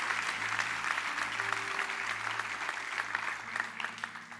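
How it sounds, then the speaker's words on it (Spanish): A church congregation applauds during a Spanish-language sermon, steady hand-clapping from a crowd sustained for several seconds at moderate distance, with some low tones underneath. "Dale un fuerte aplauso al Rey de Gloria."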